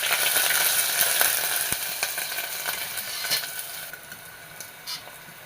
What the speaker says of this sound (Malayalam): കടുക് പൊട്ടിയതിലോട്ട് ഇഞ്ചി വെളുത്തുള്ളി ചതച്ചിട്ട് കൊടുക്കാം.